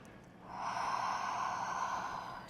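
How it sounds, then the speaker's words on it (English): One long, close nasal inhale as someone sniffs an aromatherapy oil blend held a short distance from the face, rising smoothly and then tapering off. "take a whiff"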